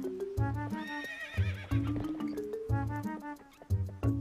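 A horse in the Zelda Twilight Princess video game whinnies loudly several times, its neighs broken up by hoof clip-clops in a quick, uneven rhythm, close and alone without any talk.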